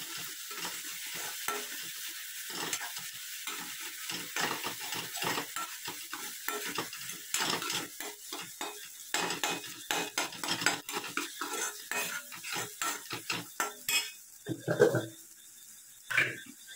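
Radish chutney sautéing in a pan comes through as a soft sizzle under repeated scraping and clinking of a spoon stirring against the pan, with a voice speaking at times.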